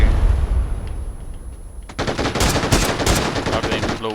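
Video game gunfire, a quiet spell, then a loud, rapid burst of automatic shots lasting about two seconds, with a little talking mixed in.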